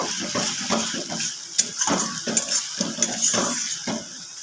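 Spice masala with chilli and turmeric powders cooking on a low flame for a bitter gourd dish, a utensil scraping and stirring in quick repeated strokes over a bright steady sizzle, close and clear.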